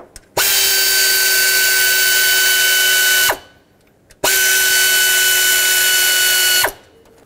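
A power tool runs down the timing chain tensioner bolts on a 5.4L two-valve 1997-2003 Ford F-150, two loud sustained whirring bursts of about three seconds each, separated by a short pause.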